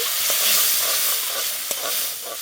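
Spice paste of garlic, ginger, green chilli and tomato water being sautéed in a pan for chicken barbecue chutney, a steady close sizzle and frying hiss with soft stirring scrapes throughout, no voices.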